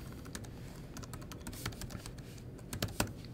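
Short bursts of typing on a computer keyboard, with quiet, close key clicks coming in uneven clusters.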